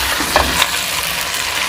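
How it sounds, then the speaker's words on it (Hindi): White sauce is stirred into chicken korma in a hot pan, a close, continuous sizzle with a few soft scraping strokes of the spoon. "ये मैं हाफ कप शामिल करूँगी, इसको मिक्स करूँगी।"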